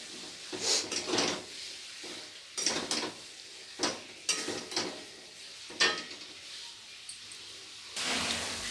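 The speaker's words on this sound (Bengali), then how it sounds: "আলুটা দিয়ে খুব ভালো করে মশলার সাথে কষিয়ে নেব" Fried potatoes sautéed with spices in a pan, a series of spatula scrapes and stirring bursts over a soft sizzle, close and rhythmic, without speech.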